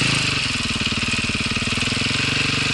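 A motorcycle engine runs close by with a steady, throaty idle that rises slightly as it's given a little throttle while the clutch is let out in gear.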